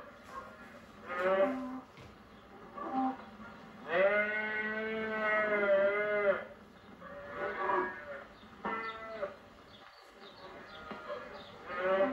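Cattle on a farm moo several times over about twelve seconds, one long drawn-out low call in the middle and shorter moos around it, fairly close and clear over a soft outdoor background.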